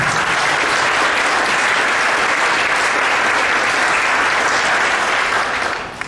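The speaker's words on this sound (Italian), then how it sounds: "per questo io ti faccio un applauso in più, Mirko" Sustained applause from an audience at an ADHD congress in Italy, dense steady clapping filling the room for about six seconds before tapering off at the end, with no talk over it.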